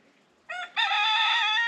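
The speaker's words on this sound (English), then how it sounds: "Our cockerel wobbles just started crowing" A rooster crows loudly and close by, a short opening note then a long, sustained harmonic call with no talking.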